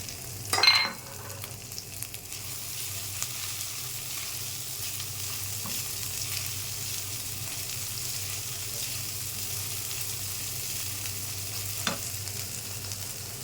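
Spices frying in freshly added oil while cooking spicy koi fish, a steady low sizzle throughout with a louder burst of crackling near the start and a brief clink later, quiet and with no voices.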